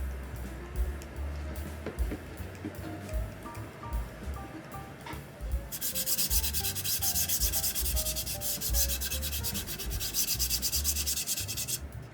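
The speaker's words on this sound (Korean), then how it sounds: "사포질도 하고 좀 다듬어 줬거든요" Close, steady scratching of sandpaper rubbing back and forth over putty on a vase model, growing harsher and more continuous in the second half, with faint music underneath.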